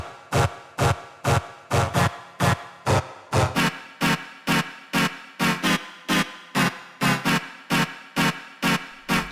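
Chord progression built from chopped synth vocal samples in an EDM style: short, punchy stabs repeat in a steady, bouncy rhythm, loud and close with no talking over them.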